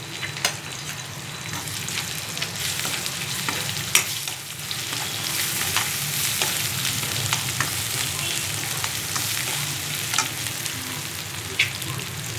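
Ginger paste frying in a pan for egg curry, a steady close sizzle with scattered crackles and a few scraping stirs, no voices over it.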